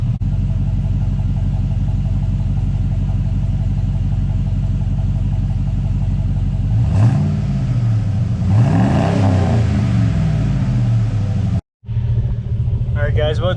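A car fitted with a Total Flow aftermarket muffler exhaust, idling with a deep steady rumble, then revved twice in rising and falling sweeps before dropping back, loud and close.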